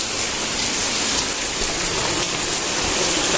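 Dense, steady rain pouring at a cemetery, loud and close with a constant hiss of drops on surfaces, uninterrupted and without voices.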